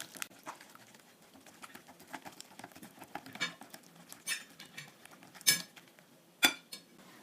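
Cake batter with milk is stirred in a bowl: soft, irregular taps and scrapes of a utensil, a few sharper clinks against the bowl's side, quiet and close with no talk.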